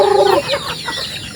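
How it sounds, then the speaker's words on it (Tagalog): A hen clucks briefly up close, followed by a softer outdoor rustle with no more calls. "Yung mga manok namin."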